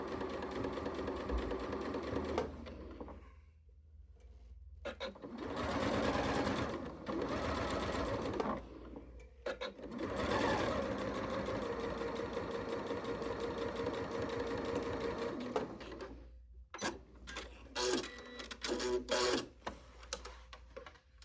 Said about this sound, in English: Just gonna top stitch this down. Keep it nice and flat.